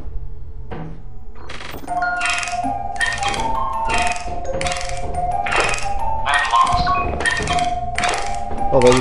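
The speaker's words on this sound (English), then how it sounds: "This guy is ringing his bell." The Nutcracker enemy in the video game Lethal Company rings its bell, about eight bright, clanging strikes in an uneven rhythm, with people talking over and between them.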